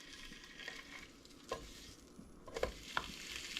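Bacon fries in a pan with a faint, steady sizzle, broken by a few soft clicks and scrapes of stirring.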